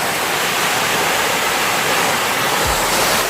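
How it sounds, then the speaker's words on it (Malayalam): Thusharagiri waterfall near Calicut, Kerala, roars with a steady, loud, broadband rush of falling water that fills the whole stretch without pause, and no voices are heard. "വെള്ളച്ചാട്ടം കണ്ടില്ലേ? അടിപൊളി."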